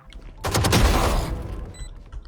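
A burst of Valorant gunfire in a tactical shooter match, several rapid close shots blurring into a loud fusillade that fades into a short tail.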